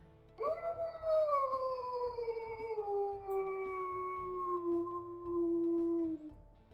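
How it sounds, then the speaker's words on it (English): A single long wolf howl from the video game WolfQuest, starting high, then slowly falling and wavering for about six seconds, clear and alone over a faint background. "I think that's her mother Plot's howl."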